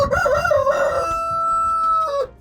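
A brown rooster crows once, close and loud, a full drawn-out cock-a-doodle-doo with a sustained final note, alone with no talk.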